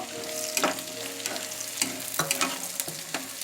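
Chopped onion frying in mustard oil with garam masala for goose meat bhuna, a constant sizzle punctuated by regular scraping stirs of a spatula against the pan.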